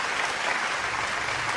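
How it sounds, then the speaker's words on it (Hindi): Loud applause from the audience at a shayari mushaira rolls on as a thick, continuous, close wash of many hands clapping, steady throughout its short span. "एक बार जोरदार तालियां बजा के"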